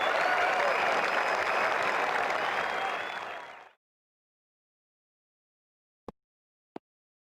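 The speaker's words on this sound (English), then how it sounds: "That's a huge 6. Just listen to the crowd." A cricket crowd at an India versus Australia Test match applauds and roars loudly after a six for about three seconds, then fades sharply to silence, followed by two isolated clicks.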